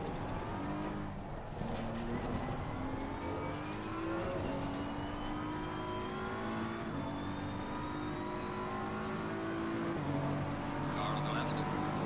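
A BMW race car in a racing video game at Suzuka, its engine droning continuously with rising, stepping revs through gear changes, with faint talk underneath.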